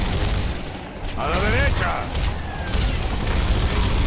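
Gunfire in the video game Gears of War, with dense bursts of shots and rumbling battle noise throughout while a voice shouts commands over the fighting.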